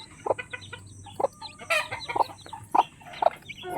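Chickens cluck and chicks peep on the ground nearby, a scattered run of short calls and chirps at close range with no voices.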